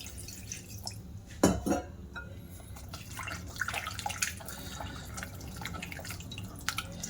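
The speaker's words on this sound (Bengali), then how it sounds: "একটু জল দিয়ে দেব।" Water is poured into semolina batter for pitha, starting with a short splash, then soft trickling and dripping at a quiet level.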